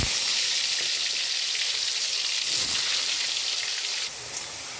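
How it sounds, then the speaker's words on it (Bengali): Potato pieces coated in salt and turmeric frying in hot oil give a dense, continuous close sizzle that drops slightly in level near the end, with no one talking. "এখন আমি আলুটা ভেজে নেব"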